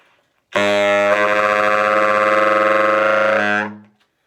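A loud, sustained saxophone tone held for about three seconds, rich in bright overtones that shift and swell in an overtone glissando before cutting off.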